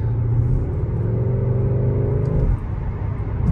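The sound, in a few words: Skoda car engine sound amplified in sport mode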